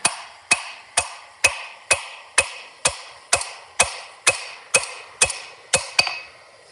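Fourteen evenly spaced, ringing hammer blows strike hot steel while chamfering the corners of forged flat jaw tongs, each blow sharp and close with a short metallic decay, repeating at a steady brisk rhythm.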